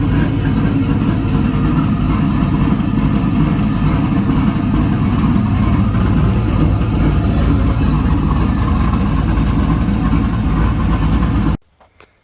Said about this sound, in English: I love the sound of the car the way it is